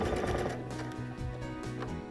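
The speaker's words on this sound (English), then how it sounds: "And you just continue sewing in this manner till the whole seam is sewed." A sewing machine stitches a pinned fabric seam, giving a soft, quick mechanical chatter in short rhythmic bursts with brief pauses between runs.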